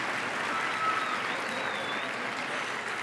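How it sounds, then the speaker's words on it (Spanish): Steady audience applause at a gala final of a most-beautiful-village contest, a dense, even wash of many hands clapping throughout, with no voices over it. "Se aplaude."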